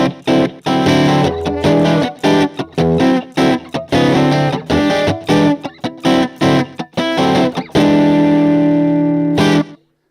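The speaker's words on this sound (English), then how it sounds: "usable spring reverb sound." An electric guitar run through an amp simulator with spring reverb plays a series of distorted chords and notes, loud and close, with a reverberant tail ringing out after the final strum.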